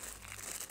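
Thin plastic bag packaging from a beauty haul crinkles briefly up close, a quick soft rustle with a sharper crackle at the end.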